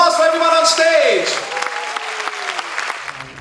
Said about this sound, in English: a big round of applause for everyone on stage